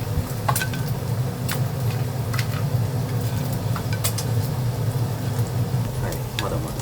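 Hamburger steak patties sizzle on a hot grill in a Western-style restaurant kitchen, a continuous close crackle with scattered sharp pops and light clinks, while people talk quietly underneath.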